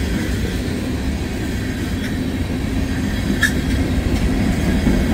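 Train rolling along a railway line on a rainy stretch of northbound tracks, a steady broad rumble filling the whole clip with faint clacking and a brief wheel squeal, no voices.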